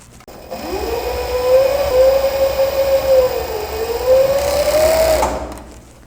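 Sewing machine stitching the finishing hem on a leg of linen-viscose blend trousers, one steady, loud mechanical whir that rises in, holds for several seconds with slight wavering, then cuts off.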